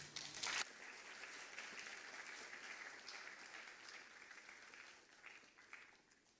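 An audience claps to welcome a speaker at a forum event, a sustained wash of applause at moderate distance that swells briefly at the start and slowly tapers off.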